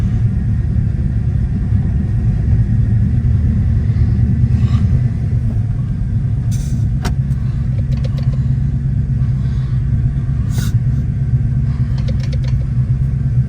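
A 1990 Mustang GT engine runs steadily in first gear, a low continuous rumble heard up close with a few faint knocks and clicks, and no talking.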